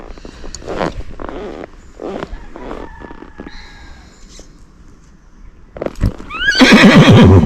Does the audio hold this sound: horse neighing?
yes